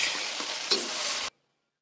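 Chili peppers fry in hot oil with a bright, steady sizzle and a brief flare partway through, then cut off abruptly into silence.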